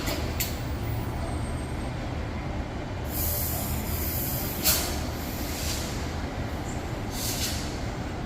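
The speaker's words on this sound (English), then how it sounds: "So the train's going to head to the siding now." A train pulls out of Perth Station toward the siding, a steady low rumble of rolling stock with a few short high wheel squeals and hisses rising over it, heard from the platform without talk.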